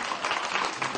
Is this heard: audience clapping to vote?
yes